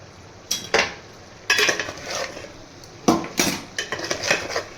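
A spoon scrapes and clanks against a pan as mutton is stirred with ginger garlic paste, with several sharp metallic knocks and scrapes in irregular bursts over a low background.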